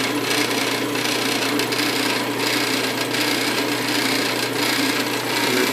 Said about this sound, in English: It makes the rest of the saw rattle quite a bit.